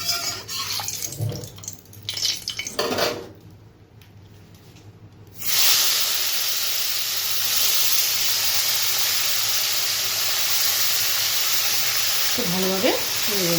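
Fish sliding into hot mustard oil in a kadai: after a few seconds of handling noise and a brief hush, a loud, sudden sizzle bursts in and holds as a steady hiss, with faint clinks near the end.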